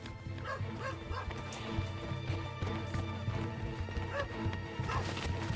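A dog barks and yips repeatedly over about five seconds, with whimpering and a crash or thwack in a busy dramatic scene.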